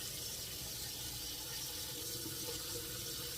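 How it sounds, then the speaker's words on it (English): Running water pours steadily from a kitchen sink tap as hands are washed beneath it, a close, constant broadband splash with no talking. "let me sneak over here to the sink, because I will be handling the egg yolks. So let me wash my hands one more time."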